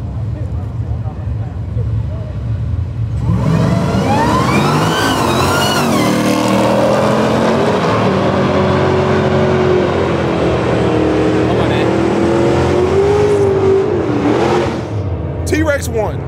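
Dodge Hellcat drag racing against a rival car at the strip: a loud engine launch that roars up and holds a rising, howling wail for several seconds before backing off, with spectators talking over it.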